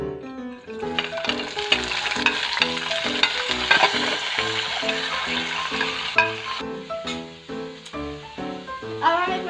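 Vegetables for pizza toppings fry in a hot pan with oil and salt, giving close, loud sizzling broken by repeated bursts as they are stirred and tossed.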